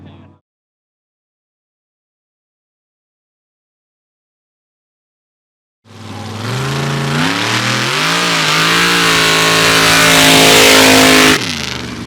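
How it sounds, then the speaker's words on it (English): A mud drag racing vehicle on nitrous at the NWMRA Valemount Mud Drags launches after a brief silence, its engine roaring loud and close with a rising, sustained rev that climbs for about five seconds before cutting back. "You hear the nitrous kicking in?"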